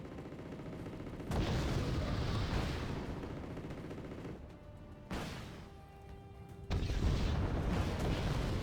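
Automatic grenade launcher fire from a Granite vehicle in the strategy game Wargame Red Dragon, heard as loud sustained bursts of booming gunfire with brief lulls between salvos.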